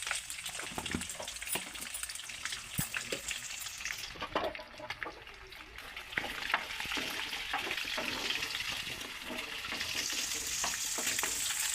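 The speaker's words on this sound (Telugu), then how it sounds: "ఇలా ఎగ్స్ అన్ని కొనలు బ్రౌన్ కలర్ కొద్దిగా లైట్ వచ్చిందాక ఇలా వేయించుకొని తీసి పక్కన పెట్టుకుందాం" Eggs fry in hot oil with a little turmeric in a pan, making a continuous close sizzle with occasional stirring scrapes. It grows a bit louder and hissier toward the end, and no one speaks.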